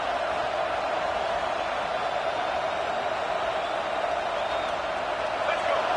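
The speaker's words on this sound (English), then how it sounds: "This crowd is trying to inspire this defense to make a big red zone stop." Roaring football stadium crowd cheering and making noise for the home defense ahead of a red zone stand, a steady dense wall of sound that holds without break throughout.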